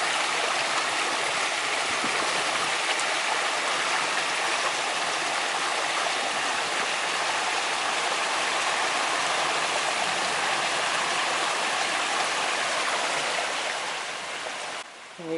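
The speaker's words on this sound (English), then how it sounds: "the water backed up behind it there for a second before flowing over" Creek water pours steadily over a board set across the stream, a loud, close, continuous rushing and splashing that barely changes until it dips at the very end.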